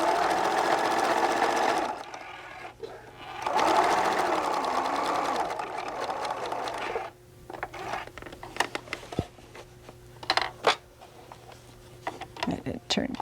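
A sewing machine stitches a seam on a fabric pouch in two sustained bursts of rapid whirring, followed by quieter clicks and handling sounds, close by with a voice talking in between.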